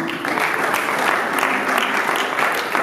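Applause at a church seminar as a speaker hands over the microphone, dense continuous clapping from a sizable audience filling the hall, steady and fairly loud throughout.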